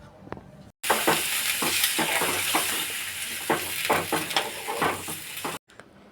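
A sudden loud hiss and sizzle as hot water hits sautéed vegetables in a pan for Bengali dudh shukto, with stirring scrapes and clinks, cutting off abruptly after a few seconds.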